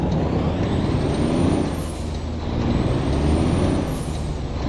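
Truck air brake in American Truck Simulator, two sharp hissing releases over a steady loud diesel engine rumble.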